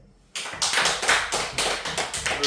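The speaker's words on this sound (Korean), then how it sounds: "감사 박수 하나님께." A church congregation at a revival meeting breaks into clapping of thanks, a sudden burst of sharp, fairly rhythmic claps from a group that repeats steadily and close by with no talking.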